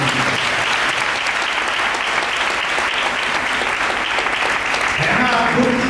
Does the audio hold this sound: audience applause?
yes